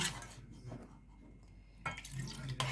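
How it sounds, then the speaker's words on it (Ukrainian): Water pours and splashes into a container in two bursts, close and fairly quiet, with a pause between them, while preparing stuffed peppers. "Добавляю воду ще."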